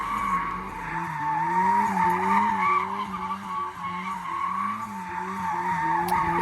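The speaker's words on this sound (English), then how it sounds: "this is actually the first drifts I did in my Miata after it was turboed" A turbocharged Mazda Miata running about 8 psi of boost skids through donuts, its engine note rising and falling steadily beneath continuous loud tire squeal, close and alone without talk.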